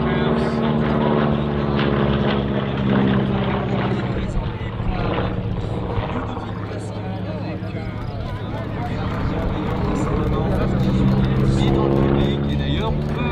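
A Bücker 103 biplane lands at an air show. Its propeller engine drones steadily and loudly throughout, while a public-address announcer speaks over it.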